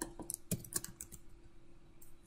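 Typing on a computer keyboard, a quick irregular run of soft close key clicks, quiet and on its own against a faint background hum.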